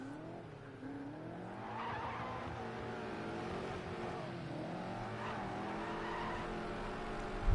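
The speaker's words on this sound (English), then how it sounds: "Tires squealing again on the BMW." Tires squeal on a BMW GT3 car in the racing game Project CARS 2 at the Nürburgring, a steady engine drone with rising and falling squeals running through the whole stretch.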